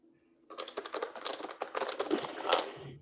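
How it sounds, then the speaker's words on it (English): Fast, loud typing on a computer keyboard comes through an online meeting, a dense run of clicking keystrokes that starts abruptly and rattles on steadily to the end. "Sorry, someone's typing quite loud."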